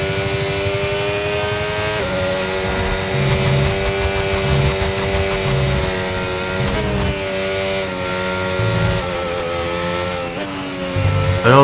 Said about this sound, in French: on entend la voiture qui a tendance à patiner